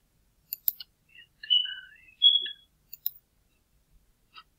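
Mouse clicks while configuring a remote access policy on a computer, a few sharp isolated clicks spread over several seconds in a quiet room, with some faint higher squeaks and rustles between them.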